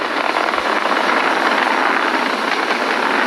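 Falcon 9 rocket engines roar in a broad, steady rush during ascent through the throttle-down before maximum dynamic pressure, loud and continuous with no voices.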